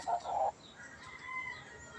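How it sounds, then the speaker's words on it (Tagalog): A rooster crows at a farm where fighting cocks are kept among other chickens, one loud crow up close at the start, followed by quieter clucking and farmyard ambience. "Ito po ang mga manok ko, mga idol."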